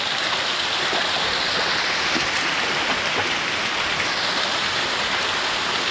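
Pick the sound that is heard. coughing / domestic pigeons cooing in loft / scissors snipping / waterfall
waterfall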